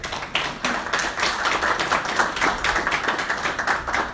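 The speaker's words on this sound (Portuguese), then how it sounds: "Aplauda ao Senhor." A church congregation applauds, with dense, steady rhythmic clapping from many hands that carries on at an even level for the whole stretch, and no speech over it.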